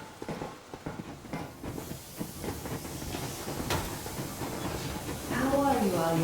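The steam train Yermak sets off in Metro Exodus with hissing steam bursts and a rising mechanical rumble and clatter. Near the end comes a brief tonal whistle or screech, and voices are heard partway through.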